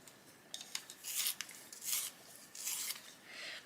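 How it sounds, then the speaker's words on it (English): A coloured pencil sharpened by hand, giving repeated rasping scrapes in quiet, uneven strokes of about half a second each, with short pauses between. "I'm just going to sharpen it."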